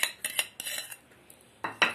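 A utensil clinks and scrapes against a bowl as salt is mixed into flour for luchi dough, several quick metallic taps and scrapes in short bursts, near and fairly clear, with no talk.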